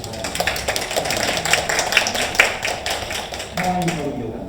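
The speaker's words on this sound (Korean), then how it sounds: "우리 축하로 박수로 축하해 주시기 바랍니다" Church congregation clapping in celebration, a few seconds of lively, uneven clapping with sharp individual claps standing out and a murmur of voices beneath.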